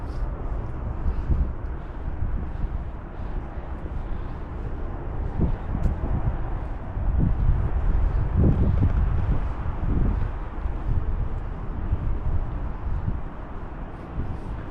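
Steady wind rushes and buffets across the microphone, with low gusty rumbles swelling in the middle, continuous and fairly loud throughout.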